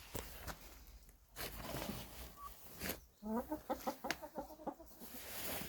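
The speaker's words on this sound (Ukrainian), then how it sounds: "Ось молоді курочки. І тут курочки." Young hens clucking nearby in a rapid, bubbly series of short calls, with shuffling and scratching sounds from the birds moving around a yard on a March evening.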